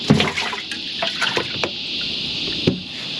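A flathead fish splashing and thrashing in the water of a boat's live well, with a few brief wet slaps and sloshes over a steady background hiss, fairly close and moderately quiet.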